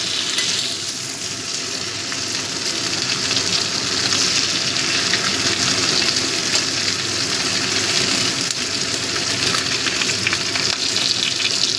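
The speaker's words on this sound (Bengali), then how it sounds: "কাঁকড়াটা আমার ভাজা হয়ে গেছে।" Crab pieces fry in a pan for a crab curry, giving a loud, continuous sizzle and crackle that holds steady throughout.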